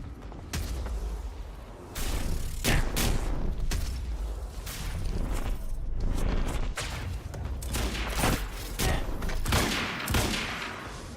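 Dense video game gunfire from Quantum Break, with continuous bursts of shots and impacts layered over mechanical clatter, loud and close throughout, briefly intensifying around the two-second mark.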